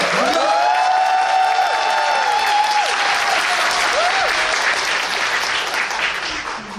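Audience applause at a stage greeting after a baseball-themed stage show, dense and loud clapping throughout with cheering over it, easing slightly toward the end.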